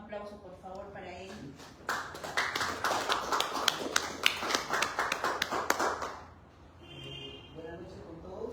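An audience at an evening book presentation breaks into steady, dense applause lasting several seconds after a speaker's introduction, with talking before and after.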